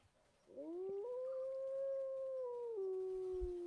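A howl sound effect triggered by a bound key in Minecraft, rising sharply, holding a long, steady, tonal wail for about three seconds, then dropping slightly before ending, loud and alone.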